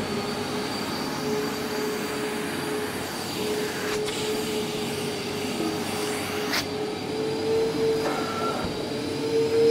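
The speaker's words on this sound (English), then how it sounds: "turn on vacuum motor number two." Vacuum motors on an Ashbys Enforcer 800 psi carpet cleaner run in a loud, steady roar with a constant whine, alone and unbroken, with a couple of faint clicks partway through.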